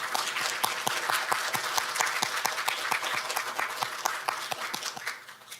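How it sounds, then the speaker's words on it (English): A symposium audience gives the KOSTAT team steady applause: many hands clapping in a continuous, even patter at moderate volume for several seconds before easing off. "Let's give KOSTAT team another big round of applause"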